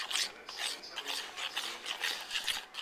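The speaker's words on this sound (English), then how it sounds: "That's enough and I'll stir it." Crunchy slime stirred with activator gives a steady run of gritty, rasping scrapes in uneven strokes, close and fairly quiet, with no voices.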